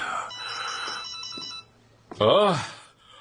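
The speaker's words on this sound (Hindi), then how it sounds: "मेरा फोन बज रहा है।" A telephone rings with a steady electronic trill for over a second, then a voice breaks in briefly afterward.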